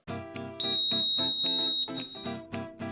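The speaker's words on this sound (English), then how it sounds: "the loudmouth will sound an audible alarm" A LoudMouth heating wire monitor for a SunTouch TapeMat floor-heating installation sounds its alarm: a loud, steady electronic tone broken by sharp rhythmic clicks and beeps, alone with no talk.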